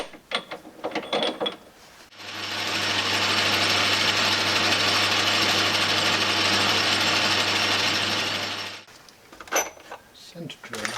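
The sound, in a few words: metal lathe facing mild steel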